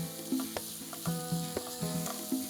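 Onions for a chicken curry sauté in a pan, a steady close hiss of frying broken by repeated scraping strokes of stirring that recur every half second or so.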